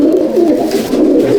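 Young pigeons raised this year coo softly in a rooftop loft in Kolkata, a close, steady murmur of overlapping low calls with no voices.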